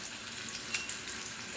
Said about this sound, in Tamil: இப்போ கொஞ்சமாக வெட்டி வச்ச ஆனியன் போட்டுக்கலாம்